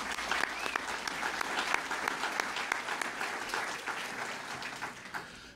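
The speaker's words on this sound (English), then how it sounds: "I think they all deserve a round of applause." Steady, dense applause from an audience at a Collingwood mayor and deputy mayor candidates' evening, sustained and even throughout before tapering slightly at the end.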